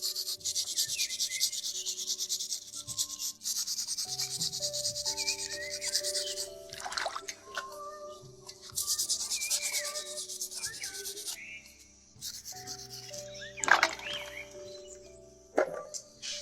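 Snails soaked in baking soda and vinegar are scrubbed by hand outdoors, making steady close rubbing and scraping strokes with brief pauses and a few sharper knocks, while birds call faintly in the background.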